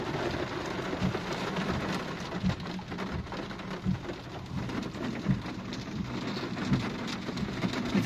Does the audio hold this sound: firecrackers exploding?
no